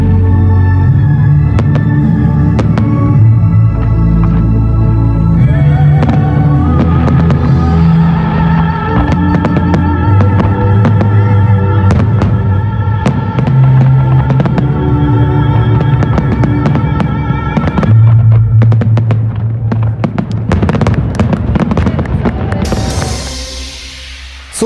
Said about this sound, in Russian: Кульминацией Дня города стал фестиваль фейерверков, который длился около 40 минут в сопровождении музыки.